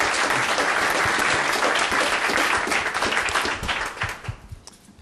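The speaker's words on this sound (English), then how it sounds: "Let's just start with a round of applause." Roundtable audience applauding a series of business presentations, a full burst of many hands clapping, loud and even at first, then thinning into scattered claps and fading out near the end.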